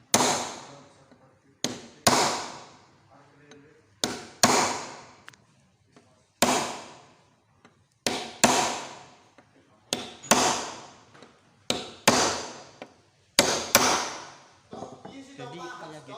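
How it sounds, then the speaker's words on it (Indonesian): A ball-peen hammer strikes metal during bench work, about ten sharp, loud blows in uneven pairs and singles, each with a short ringing decay. "saya juga akan mempraktekkan cara penggunaan pada palu konde ya. Biasanya sih digunakan untuk memalu yang pada logam."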